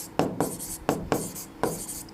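Chalk or marker strokes on a board during a maths class: short scratchy strokes arriving in small bursts, about six distinct strokes, close and clear, with no speech over them.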